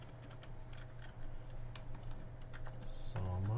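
Soft, irregular clicks of someone typing code on a computer keyboard sound over a low steady hum, close and quiet, ending with a brief rising tone.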